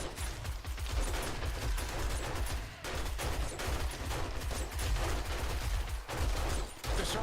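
Rapid, continuous 9mm pistol gunfire in the survival game 7 Days to Die, dense overlapping shots with brief pauses, loud and close.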